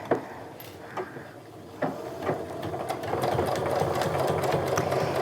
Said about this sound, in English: I'm going to go ahead and reinforce the stitches a little bit at the top.